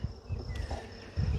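Honey bees buzz inside a hive during an open inspection. The hum is steady, close and continuous, with a few soft knocks and shuffles underneath.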